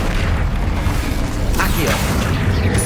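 Spell blasts in the Hogwarts Legacy video game: repeated booming bursts and pops in rapid succession, loud and continuous, with a voice shouting spell names over the combat.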